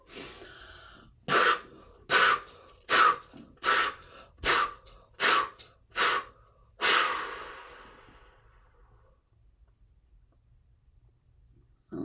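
Eight evenly spaced, forceful breaths pass close to the microphone, each a short breathy rush at a steady rhythm. A longer drawn-out breath follows, then quiet.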